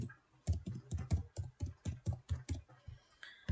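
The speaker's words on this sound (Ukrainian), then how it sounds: "Пишу прізвище Петров, 4 клас." Keys on a computer keyboard are pressed in a quick, fairly even run of about a dozen clicks, close and clear with nothing else heard.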